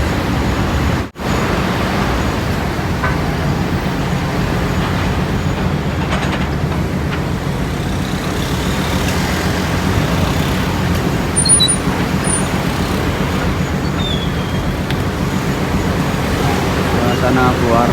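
Buses, cars and motorbikes drive off a ship, a loud, continuous rumble of engines and rolling traffic throughout, with faint voices now and then.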